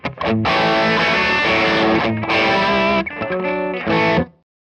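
A loud, heavily distorted electric guitar through a Strymon Sunset overdrive pedal plays sustained crunchy chords in a classic rock style, ringing out and then cutting off at the end.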